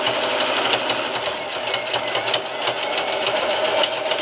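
A sewing machine stitching through a thick prefold cloth diaper to shape it into a contour diaper, a steady fast mechanical whirring and rattling, close and continuous without pause.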